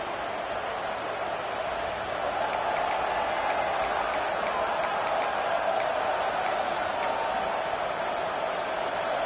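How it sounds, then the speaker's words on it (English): Steady, dense stadium crowd roar at a college football game between Georgia and Ole Miss in the College Football 26 video game, holding at an even, loud level throughout with faint clicking over the top. "Crowd getting this defense whipped up on third down"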